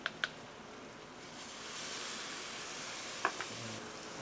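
Chickpea nuggets and curry hit a hot pot, a few sharp clinks at the start, then a rising steady sizzle with another clatter near the end.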